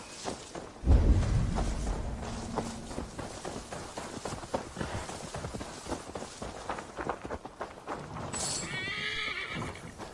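A horse in Assassin's Creed Valhalla whinnies loudly near the start, followed by steady clip-clopping hooves and rustling movement, with a second shrill neigh near the end.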